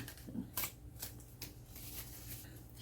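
Tarot cards are shuffled by hand in close, quiet riffling bursts, a few sharp flutters and snaps over roughly three seconds, with no talk.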